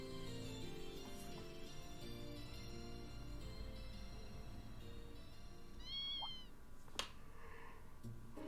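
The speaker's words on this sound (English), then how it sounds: "What's the kitten doing here?" A kitten in The Legend of Heroes: Trails of Cold Steel II gives a single clear, rising meow over soft background game music, followed shortly by a sharp short chirp.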